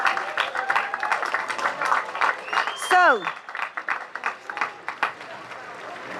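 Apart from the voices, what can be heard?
standing applause for educators at a graduation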